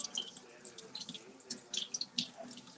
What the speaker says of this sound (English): I do like to, again, run it under some water.